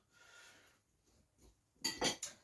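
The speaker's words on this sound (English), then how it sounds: "That also goes into marinade. Give it a quick stir." Halloumi stirred in marinade in a bowl; after a quiet start, a short burst of sharp spoon clinks and scrapes sounds close and clear near the end.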